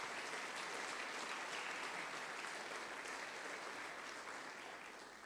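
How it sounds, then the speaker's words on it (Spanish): A church congregation applauds during a sermon, sustained dense clapping that holds steady and then slowly tapers off near the end, heard alone without speech. "Dele un aplauso al que vive"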